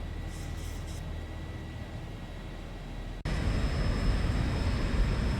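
A ZIBO Boeing 737-800 in the X-Plane 12 flight simulator starts its takeoff roll at Dallas Fort Worth, a steady engine roar that jumps abruptly louder and fuller midway as thrust increases.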